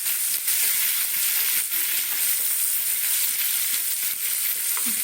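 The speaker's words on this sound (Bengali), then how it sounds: "ওই সব কিছু একসঙ্গে একটু তেলের মধ্যে একটু নাড়া দিয়ে এভাবে একটু নাড়া দিতে হবে" Spices for amla pickle stirred in hot oil, a steady close sizzle with bright hissing throughout and faint scrapes of the stirring spoon, no voices.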